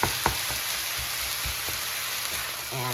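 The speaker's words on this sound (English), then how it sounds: "So now it's sizzling, so I'm going to break up the ground turkey." Ground turkey sizzling in a hot pan on medium-high heat, a steady broadband hiss of frying with a few soft scraping taps as the meat is stirred.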